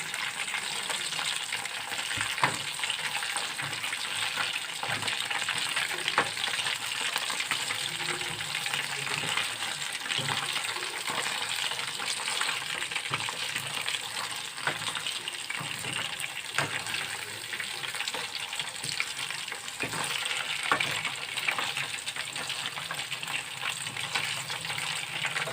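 Mutton grill kebab pieces sizzle steadily in a hot pan while being turned and stirred, with occasional scraping and light clinks over a dense, continuous frying hiss, close and fairly loud with no talk.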